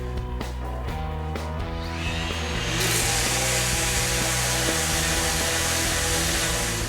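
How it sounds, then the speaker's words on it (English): Power sanding the outside of a wooden wine display box, starting with 80 grit, gives a steady, loud abrasive whir over a humming motor drone, growing brighter and harsher partway through and continuing without pause. "We'll sand the entire outside of the box to 220 grit, starting out with 80 grit"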